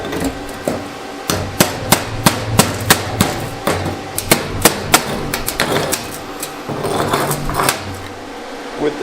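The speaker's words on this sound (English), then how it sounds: "We'll see what happens when we chip the slag off." Hammer chipping slag off a T-joint weld, about a dozen sharp metallic strikes in an irregular rhythm, loud and close, with brief pauses between bursts.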